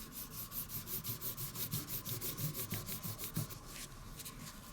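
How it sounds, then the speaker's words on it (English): A fingertip gently rubs weathering pigment along the raised parts of a rubber model tank track, making a close, soft, rhythmic scratchy rubbing that repeats in quick even strokes throughout. "dip my finger into the pigment. Don't get a lot on, dab off any excess, and just gently rub"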